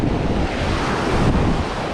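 Sea waves washing onto a sandy beach in Sri Lanka, a steady, loud roar of surf with heavy wind rumble buffeting the microphone throughout, no voices.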